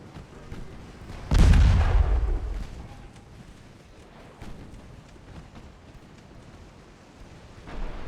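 Warship guns firing in a naval battle game set in 1895, one loud, deep blast that booms and rolls out over a couple of seconds, then quieter rumbling and a fresh low thud near the end.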